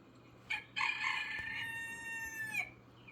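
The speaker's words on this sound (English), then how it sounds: "There's the rooster." A rooster gives one full, close cock-a-doodle-doo lasting about two seconds, preceded by a short sharp opening note, clear and loud over a quiet steady background.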